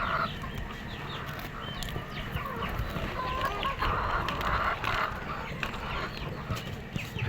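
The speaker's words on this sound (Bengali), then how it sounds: "ওই দেখেন, একটা মুরগি এখন ডিম পাড়তেছে।" Hens cluck repeatedly in a poultry shed where a hen is trying to lay an egg, overlapping mid-distance calls and a brief crow-like note over a busy farmyard background, with no talk.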